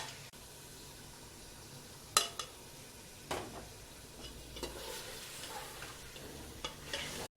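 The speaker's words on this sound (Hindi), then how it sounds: "मसाला डालने के बाद 5 मिनट तक इसे अच्छी तरह भून लूंगी" Beef frying with nihari masala after browning in ginger-garlic paste, a soft, steady sizzle with occasional scrapes and knocks of a spoon stirring the pan, quiet and without talk.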